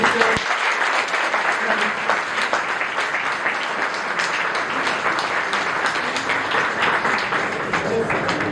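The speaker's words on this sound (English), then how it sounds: "give them a big round of applause" A hall audience at a speech event breaks into sustained applause, a dense, even wash of many clapping hands lasting throughout.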